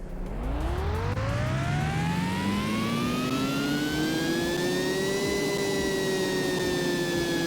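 A car engine in the Car Mechanic Simulator game runs on a dyno, revving in one long continuous rising whine that climbs steadily, holds high and sweeps slightly down, loud and close with no talk.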